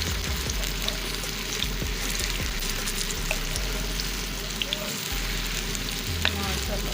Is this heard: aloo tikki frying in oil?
yes